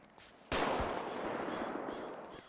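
Gunfire in a favela-set roleplay video game erupts as a sudden loud burst of rapid shots, then continues as sustained, dense firing for over two seconds with no talk over it.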